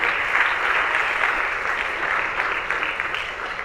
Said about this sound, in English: please a huge round of applause for all 3 lightning speakers today